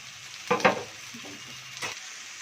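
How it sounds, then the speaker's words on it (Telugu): Onions fry quietly in a pan for a Godavari-style crab curry, a low, faint sizzle with a couple of soft scraping stirs. "ఉల్లిపాయలు వేయించుకుందామండి ఒకసారి పైనుంచి."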